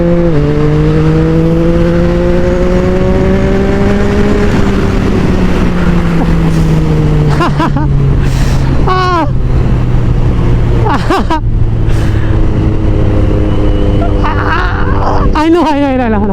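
A 2024 Yamaha MT09 motorcycle engine roars loud and close while riding, its pitch climbing and falling through revs and gear changes, with short throttle blips and steady rushing wind throughout.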